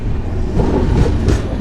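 Samaleswari Express 18005 running between Howrah and Rayagada, a loud, close, steady rumble of wheels on track heard from inside the train.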